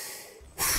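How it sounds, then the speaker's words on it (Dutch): A short breathy blow of air, a soft exhale that swells into a louder, rushing puff at the end. "Ik hijg en ik puf en ik blaas je boot vooruit."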